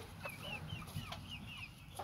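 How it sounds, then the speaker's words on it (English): Chickens of mixed breeds cluck and chatter softly in a homestead coop, several short calls overlapping at close range over a faint steady background. "And these are different breed of chickens"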